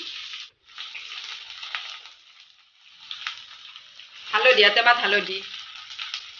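Small-cut potatoes frying in a pan over lowered heat give a steady hiss that swells into a louder, bubbling sizzle near the end. A voice speaks briefly over it.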